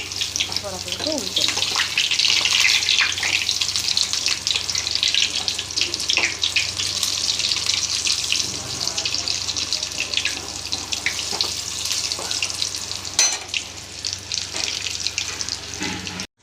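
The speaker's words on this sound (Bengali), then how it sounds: "সব কটা ভেজে নিয়েছি চাল কুমড়োর বড়া" Ash gourd fritters (bora) fry in oil over a lowered gas flame, giving a loud, continuous hissing sizzle close up with faint background voices.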